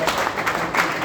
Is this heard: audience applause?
yes